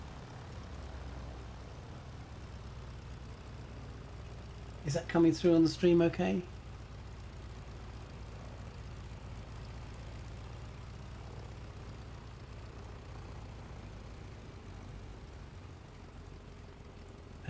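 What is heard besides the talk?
Stearman biplane engine in Microsoft Flight Simulator 2020 video game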